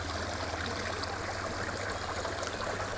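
A garden stream in a Colorado rock-garden water feature trickles and splashes over rocks with a steady, close wash of running water throughout.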